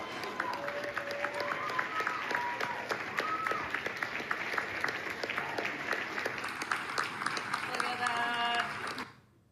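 A Carnegie Hall concert audience gives a standing ovation with sustained dense applause and cheering that runs unbroken for about nine seconds before cutting off abruptly.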